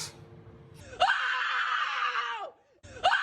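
A loud, high-pitched human scream is sustained for about a second and a half, with a quieter vocal sound just before it and another scream beginning at the very end.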